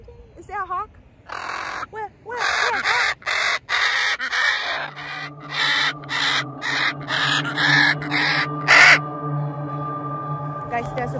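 Pet macaws screech in repeated harsh, loud bursts near the microphone, calling in alarm at an eagle overhead; a person talks briefly at the start, and a steady hum continues underneath.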